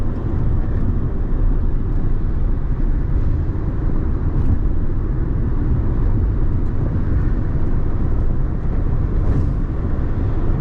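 A 2005 Toyota RAV4 drives along with a steady, rumbling engine and road roar heard from inside the cabin, continuous and fairly loud with no talking.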